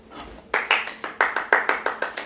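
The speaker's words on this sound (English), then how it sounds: "The clerk in the tank involuntarily applauded." A short burst of about eight hand claps at a steady, brisk rhythm, close and clear after a brief quiet moment.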